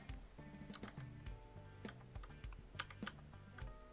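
Quiet keystrokes on a computer keyboard, irregular bursts of clicky taps with short pauses between runs, close but faint, with no speech.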